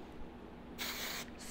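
Hairspray hisses from a can onto a flower girl's hair in two short close bursts, the first longer and the second brief, over a faint quiet background.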